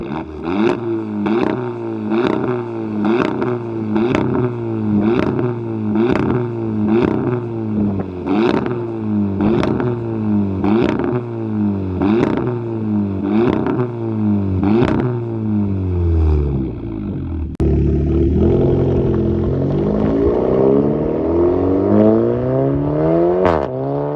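A straight-piped Volkswagen Polo GTI 6C exhaust revs loudly and repeatedly in a steady series of sharp blips, deep and raspy, then settles into a rumbling, rising roar.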